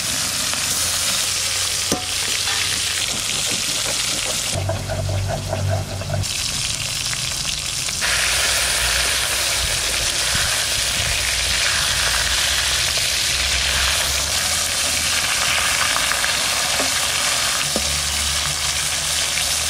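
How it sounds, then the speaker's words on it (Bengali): Katla fish rubbed with salt and turmeric fry in mustard oil in a kadai, a loud continuous sizzle and bubbling with occasional stirring scrapes and brief swells of spitting oil, close up and with no voices. "কড়াইতে দিয়ে দিচ্ছি সর্ষের তেল, মাছগুলো ভাজবো এবার আমি"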